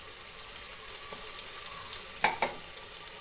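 Crushed ginger and garlic sizzling in a pan for a beef kabsa, a steady close frying hiss with two quick scraping stirs near the end.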